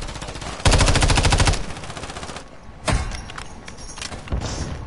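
Automatic gunfire in a first-person shooter video game, a loud sustained burst of rapid shots followed by a few shorter separate bursts, with no talking.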